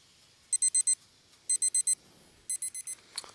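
A timer alarm beeps in three quick bursts of four high electronic beeps each, then a short click as it is silenced. The room is otherwise quiet.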